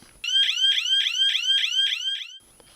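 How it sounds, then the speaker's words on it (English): Emergency alarm on networked security devices, set off by a panic button: a loud electronic warble repeating in rapid, even pulses for about two seconds, then cutting off abruptly. "one presses a button which triggers an alarm on all devices connected to the network"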